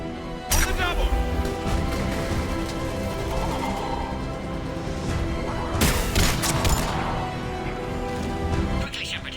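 Bursts of gunfire crack out in a Mass Effect 3 battle on Sur'Kesh, one sharp volley near the start and a heavier cluster in the middle, mixed with a shouting voice and busy game effects.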